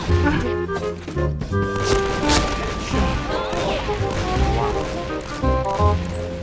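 Rapid bursts of video game gunfire, loud and close, with repeated shots and a few crashing impacts over a dense, busy mix of game sounds.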